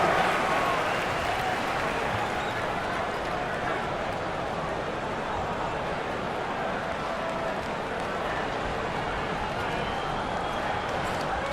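A steady, dense roar of an arena crowd cheering and applauding fills an NBA 2K26 game between the Golden State Warriors and Phoenix Suns, constant and loud throughout.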